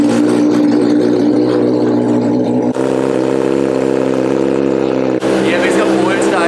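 A loud superbike engine idles steadily close up, a deep throbbing rumble that holds even with two brief dips.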